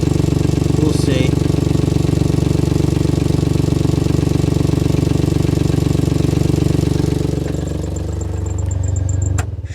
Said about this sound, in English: The engine doesn't sound too bad